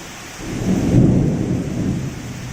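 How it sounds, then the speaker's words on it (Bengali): Heavy monsoon downpour with a low rumble of thunder, a dense roaring wash of rain that swells in the middle and stays steady, with no voices. "অ্যাট লাস্ট আমাদের এখানে মুষলধারার বৃষ্টি আরম্ভ হয়েছে।"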